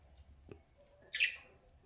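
A pet budgie gives a single brief high chirp, close but faint, over quiet room noise.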